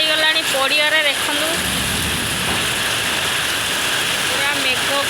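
Heavy storm rain mixed with hail pours down in a dense, constant roar of water hitting surfaces, loud and unbroken, with brief voices calling out near the start and end.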